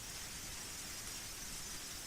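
Torrential downpour of rain, a dense steady hiss of heavy rainfall filling the scene continuously and evenly, with no voices over it.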